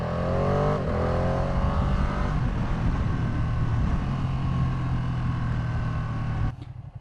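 A Ducati motorcycle engine revs hard and steadily with an auto blipper, a loud, close, sustained engine roar that cuts off abruptly near the end.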